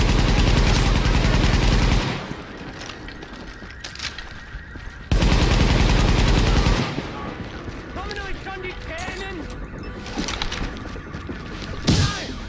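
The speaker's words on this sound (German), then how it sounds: "Schießt einfach mal so in die Luft rum." Gunfire in the PC video game The Division: two long, loud bursts of rapid automatic fire, with someone talking in the quieter stretch between them.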